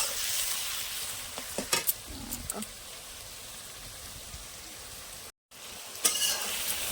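Mutton cooking for a New Year meal keeps up a steady, close sizzle in a pan, with a few sharper spits and clatters breaking through and one brief gap of silence.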